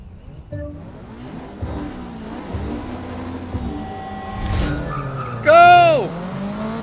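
A tuned Toyota MR2 of nearly 300 horsepower races in Forza Motorsport 6, its engine rising and falling through gear changes before a loud, sharp tire squeal near the end.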